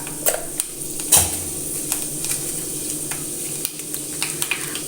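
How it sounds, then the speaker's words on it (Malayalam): Mustard seeds and fenugreek sputter in hot oil while mango puliyanchi is being made: a steady frying sizzle with scattered sharp pops and crackles, close and fairly loud, with no voices. "കടുക് പൊട്ടി വരുമ്പോൾ കുറച്ച് ഉലുവട്ട് കൊടുക്കാം"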